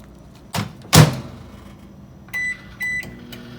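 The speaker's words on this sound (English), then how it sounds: "I can eat them while I stand here and wait for my food to microwave" Kitchen microwave oven being used to reheat lunch: a door thump and a sharper slam, then two short electronic beeps from the control panel, close and clear without talk.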